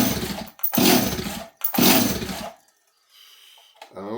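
A Stihl 026 chainsaw on full choke, with a dry carburetor and fuel line, gives three short rough bursts of engine noise in quick succession and then falls quiet, with a faint sound at the very end.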